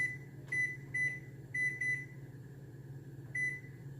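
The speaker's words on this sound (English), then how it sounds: "I usually set the timer for 15 minutes" A kitchen timer gives short electronic beeps as it is set, about six separate chirps spaced irregularly over a low steady hum, close and clear with no talking.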